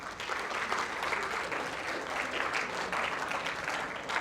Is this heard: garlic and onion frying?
no